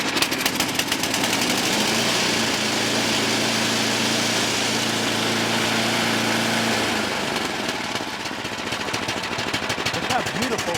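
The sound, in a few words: MTD triple belted snowblower engine idling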